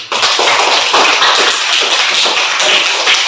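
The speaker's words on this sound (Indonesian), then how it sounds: "Tepuk tangan sekali lagi" Students in a classroom applaud a classmate after a presentation, a dense, steady patter of many hands clapping close by for a few seconds with no talk over it.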